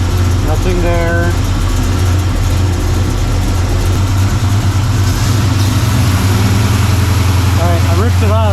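Small-block Chevy engine idling in a C10 truck during a compression test, a steady low rumble throughout, close and loud, with someone talking over it.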